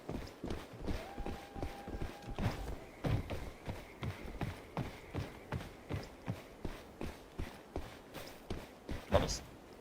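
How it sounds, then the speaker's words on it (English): Player footsteps in the Mistfall Hunter video game, a steady run of close, rhythmic steps thumping through the whole stretch, with faint game ambience and brief tonal effects layered behind. "I'll just back up a little bit since I hear 2 sets of footsteps."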